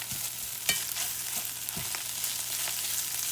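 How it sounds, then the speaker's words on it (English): Diced potatoes and sausage frying together in a pan under a constant bright sizzle, with a few clinks and scrapes as they are stirred, close up and with no talking. "we're going to start blending that in and letting it cook with that sausage"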